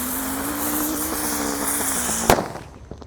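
A Tratator firecracker burns with a steady fizzing hiss and rising whistle, then bursts in one sharp, loud bang near the end before the sound fades away.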